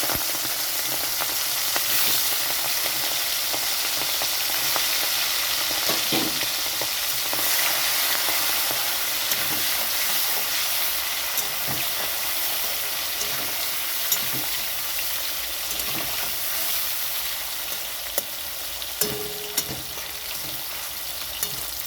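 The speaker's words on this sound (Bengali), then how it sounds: "কড়াইতে সর্ষের তেল দিয়েছি, তেলটা গরম হয়ে গেছে। তো এখানে আমি চিংড়ি মাছগুলো দিয়ে দিচ্ছি ভাজার জন্য" Shrimp fry in hot mustard oil in a wok for a raw banana curry, giving a steady, dense sizzle that continues for the whole stretch with occasional small pops and stirring knocks, close and loud, with no talk.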